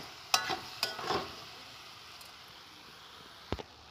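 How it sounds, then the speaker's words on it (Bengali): Pre-fried soybean chunks and potatoes are sautéed with spices in a pan, giving a quiet sizzle with a few clinks and scrapes of the stirring spoon. "আলু দিয়ে ভালো করে কষিয়ে নেব।"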